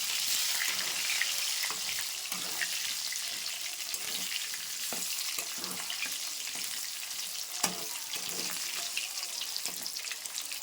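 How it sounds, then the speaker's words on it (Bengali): Potatoes fry in a pan after fish, a continuous bright sizzle close by with scattered pops, spatula scrapes and one sharp clack, no voices over it. "এবার কিন্তু আমি আলুগুলো সুন্দর করে ভেজে নেবো"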